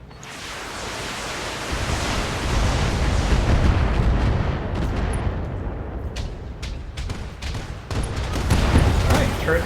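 Turrets fire and explosions boom in the Battletech video game, a dense, continuous roar of rumbling blasts and gunfire that swells and persists throughout, with sharper cracks breaking through toward the end.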